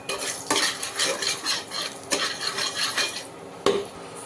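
Sugar is stirred into hot oil in a pan for veg biryani, a close scraping of a spoon against metal repeating in quick strokes over a bright sizzle, with a few sharper knocks.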